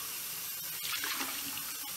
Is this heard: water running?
yes